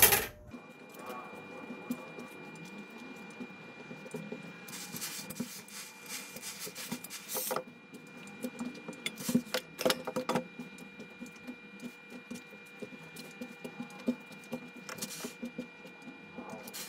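Sewing machine stitching a seam on a raglan-sleeve wrap dress, a quiet, steady mechanical whir with faint clicking and rustling of fabric, heard close and soft without speech.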